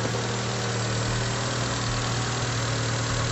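A Daihatsu Taruna EFI engine idles at about 1100 RPM after a tune-up, a loud, steady mechanical drone with a low hum and even vibration throughout, no voices.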